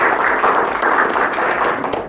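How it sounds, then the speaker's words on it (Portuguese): An audience at a business breakfast event for HR professionals in Mozambique applauds, a dense, steady wash of clapping that holds loud for about two seconds. "Uma salva de palmas, por favor."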